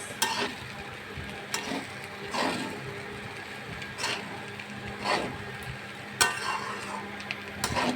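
Vegetable rice being stirred in a pan, with a spoon scraping and sweeping through the grains in repeated strokes over a soft frying sizzle, close and moderately loud, no talking.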